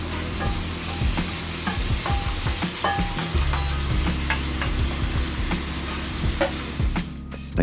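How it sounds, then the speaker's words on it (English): Sisig, a chopped roast pork dish, sizzles loudly in a hot cast iron skillet, crackling and spitting steadily while a utensil stirs and scrapes through it. "Then throw in our awaiting sisig mixture, which is gonna sizzle away."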